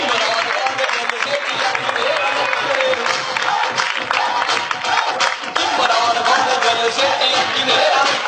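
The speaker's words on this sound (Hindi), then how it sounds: "इनके लिए तालियां।" Audience clapping and cheering at a speech-style event with a school boy performing, a dense continuous wash of many hands with crowd noise and shuffling throughout.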